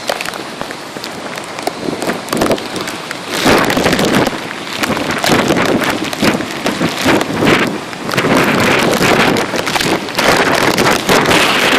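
Hurricane Sandy's wind and rain roar across Normandy Beach, a loud, continuous buffeting with gusts surging and pounding the microphone throughout.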